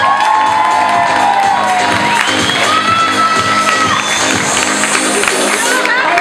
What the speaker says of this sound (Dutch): En ook uw daverend applaus voor Quirina Steenakker.